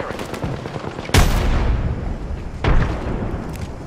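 Enemy gunfire in the Apex Legends video game: a dense, continuous crackle of shots with two sharp, louder blasts standing out, close and harsh, with no talking over it.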